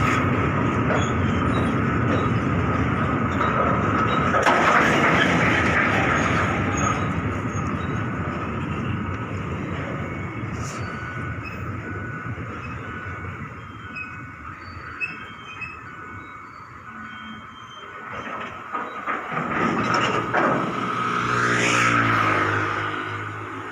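A night train pulls into track two at a Thai station, a loud sustained rumble of rolling cars with a steady tonal whine and brief squeals near the end as it draws close, with no voices.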